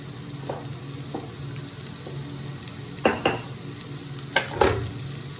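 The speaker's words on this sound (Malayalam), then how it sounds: "പച്ചമുളക് ഇട്ട് കൊടുക്കാം. നല്ലോണം വഴണ്ടതിന് ശേഷം തക്കാളിയൊക്കെ ഇട്ട് കൊടുക്കും." Green chillies sautéing in a pan for Kerala squid roast, a steady low sizzle with a few sharp spatula scrapes and stirring knocks against the pan, close and alone.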